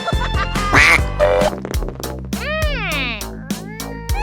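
A little cartoon duck quacks in a run of loud, squeaky quacks over bright, bouncy percussive music, with fast repeated nasal calls rising and bending in pitch.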